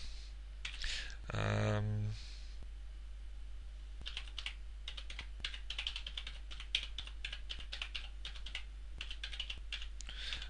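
Fingers type on a computer keyboard in quick, uneven bursts of close, crisp clicks, entering a download URL, with a short electronic tone near the start.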